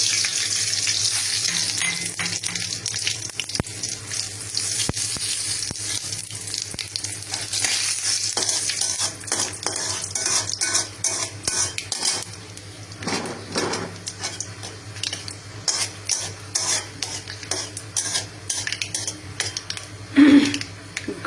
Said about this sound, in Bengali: ঘ্রাণ ছেড়ে আসা না পর্যন্ত একটু ভেজে নেব সুন্দর করে।